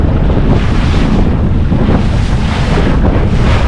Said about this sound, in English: Waves are a little bigger out here.